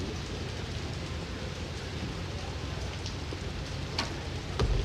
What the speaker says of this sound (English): the rain is actually coming at them as well